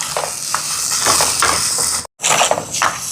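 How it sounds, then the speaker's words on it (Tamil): Chopped onions stirred and sautéed in a pan for egg patties, a loud continuous sizzle broken by scraping utensil strokes, cut off by a brief moment of silence before the frying resumes. "கலந்து விடுவோம். நல்லா வதங்கட்டுக்கும்."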